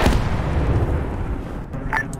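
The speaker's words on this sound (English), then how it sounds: "Let's see if I can fire an RPG at it." An RPG firing in the Roblox military simulation Novyrus MilSim gives a single loud, low boom at the start, then a rumbling decay fading over a couple of seconds with faint distant noise after.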